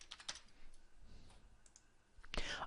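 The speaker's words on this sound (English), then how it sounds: "And now if I click the export button here" Quick mouse clicks on an export button in invoice-processing software, a few light, dry taps close to the microphone, with faint background noise and a soft voice.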